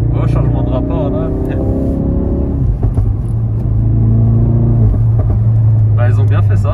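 A 350 hp Ford Focus RS engine pulls hard and rises in pitch, drops briefly through a gear change, then drones on loudly and steadily at close range.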